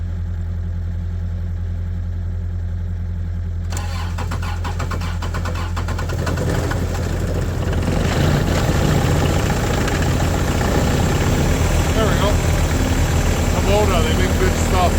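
A summertime machine that may need glow plugs cranks and catches, its engine settling into a loud, steady rumbling idle that keeps running close by after the start.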